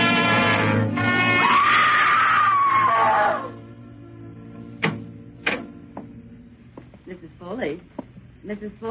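A woman screams in a radio drama, a loud sustained high shriek lasting about three seconds, followed by quieter clicks and knocks as the scene continues.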